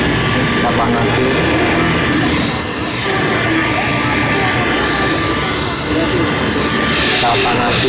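A heat gun blows steadily while warming a motorcycle headlight before lens removal, a loud continuous close-up roar of rushing air across the whole stretch, with a voice speaking over it.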